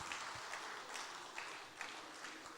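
Audience applause at a climate change summit session on the Lagos Redline rail project, a steady faint patter of many hands spread across the whole stretch with no voices.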